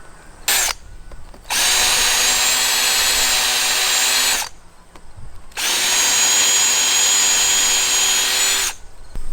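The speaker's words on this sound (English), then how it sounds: "I'm just going to drill holes halfway through the board every 12 inches" A power drill bores 3/4 inch holes halfway into a wooden sill plate board, two loud sustained whirring runs of about three seconds each separated by a brief pause, with short bursts and handling noise around them.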